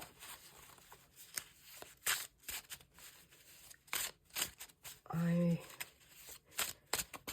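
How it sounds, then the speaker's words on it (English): Playing cards shuffled by hand for collage art, with several bursts of riffling and flicking, close and crisp. A short whirring or tearing noise sits among them, and a voice is heard briefly. "I'm going to shuffle the cards."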